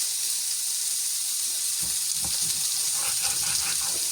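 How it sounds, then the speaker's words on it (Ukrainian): Bacon sizzles steadily in a pan, a constant crackling hiss with a few soft clicks and pops toward the end. "Поки наш бекон смажиться"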